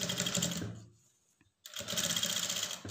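Sewing machine stitching a quarter-inch fold on a blouse lining, running in two loud, steady bursts with a short pause between them.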